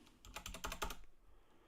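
Fast typing on a computer keyboard, a quick burst of clustered key clicks lasting about a second, close and fairly loud, then trailing off into quiet.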